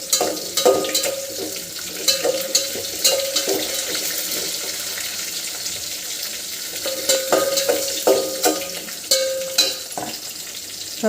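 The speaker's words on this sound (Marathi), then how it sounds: "आता याच्यात आपण हिरवी मिरची थोडी परतून घ्यायची।" Green chillies sautéing in a pan for masala khichdi, a steady close sizzle with intermittent clinks and scrapes of a stirring spoon against the pan.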